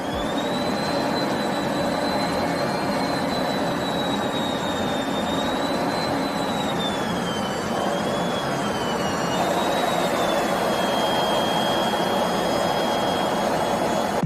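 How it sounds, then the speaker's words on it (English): An airplane's jet engine roars steadily from inside the cockpit while it flies right next to another plane, a continuous loud broadband rush with a faint wavering high whine, with no talking. "This person was filming out of the cockpit while flying right next to another plane."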